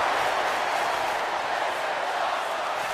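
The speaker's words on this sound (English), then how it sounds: "And the crowd is loving it." Wrestling arena crowd in WWE 2K24 roaring steadily at a WrestleMania match, a loud continuous wash of cheering with no clear breaks.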